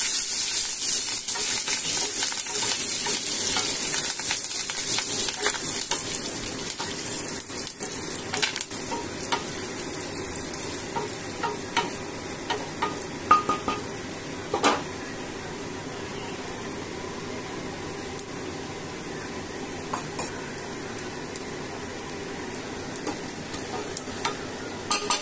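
Curry leaves and Kashmiri chili powder sizzle in a hot tempering for aloo raita, a loud steady frying hiss that gradually eases, with scattered scraping taps of a stirring spoon close by.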